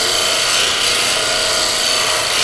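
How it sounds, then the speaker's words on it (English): A woodturning tool's bevel is ground on a grinder during sharpening, making a loud, continuous rasping grind that holds steady throughout with no talk. "Once go ahead and grind it."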